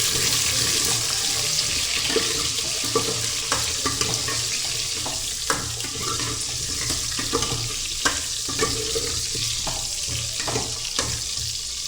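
Mango pieces are tossed and fried in hot oil for a drumstick mango sambar, a steady loud sizzling hiss broken by occasional sharp clicks and clatters of stirring throughout.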